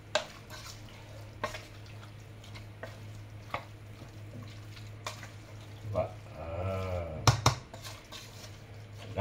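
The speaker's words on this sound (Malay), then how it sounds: "nampak tu kalau awak tengok saya gaul" Smashed potato is stirred and mixed with spicy beef for a prata wrap, with soft irregular scrapes and taps of a utensil in a bowl, close, under quiet intermittent talk.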